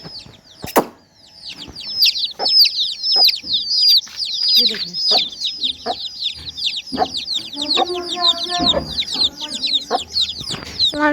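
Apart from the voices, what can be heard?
hen and chicks clucking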